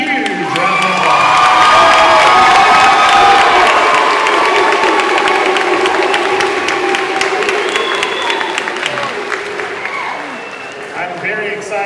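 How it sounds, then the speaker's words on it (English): A large crowd applauds and cheers loudly for military enlistees at a community salute event in Fayetteville, North Carolina, with whoops rising over sustained clapping that gradually fades toward the end. "Let's give them a huge round of applause."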